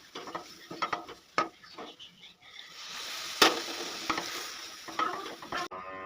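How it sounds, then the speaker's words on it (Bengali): A semolina mixture is stirred in a pan as water goes in bit by bit, giving irregular scraping and sloshing strokes with short clinks, fairly faint and close, with no talk. "অল্প অল্প করে জল দেবো আর নাড়াচাড়া করব"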